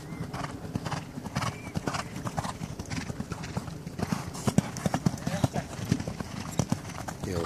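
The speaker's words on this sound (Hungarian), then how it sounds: "Lovak is, lovasok is." Horses carrying riders clip-clop steadily along, their hooves striking in a continuous irregular rhythm, close and fairly loud, with an occasional whinny and people talking throughout.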